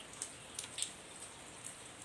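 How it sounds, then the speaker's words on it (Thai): Rain falls outdoors as a quiet, steady hiss, broken by a few sharp, scattered drips landing nearby on a hard surface. No one speaks. "นี่นะคะเด้อฝนนะ"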